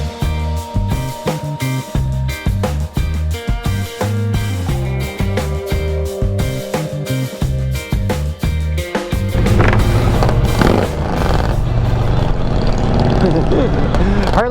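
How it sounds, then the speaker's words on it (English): A Harley motorcycle with loud pipes rumbles through traffic, its exhaust pulsing in throttle bursts before a louder, broader roar as it passes close by, with someone talking over it. "Loud pipes don't just save lives, man. They freaking make the cars move out of your way."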